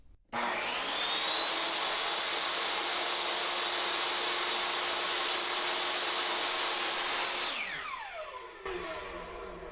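DeWALT DWE7485 8-1/4 inch compact table saw switched on and running free, a loud, close, high-pitched motor whine that starts abruptly, holds steady for several seconds, then winds quickly down as the brake stops the blade.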